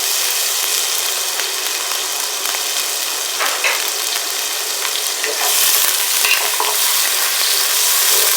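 Tomatoes roast in a hot pot over medium-high heat, filling the clip with a loud, dense sizzle and crackle that swells further partway through, with faint stirring scrapes.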